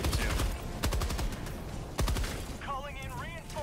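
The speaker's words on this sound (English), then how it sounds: "Artillery's coming in too." Heavy artillery fire in the video game Helldivers 2, with loud booming impacts and bursts of gunfire in a battle scene, plus whining synthetic tones near the end.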